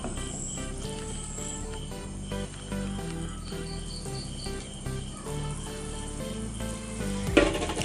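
A meatless biryani mixture simmering in a pan, giving a soft, continuous sizzle and bubbling beneath steady background music, with a brief scrape near the end.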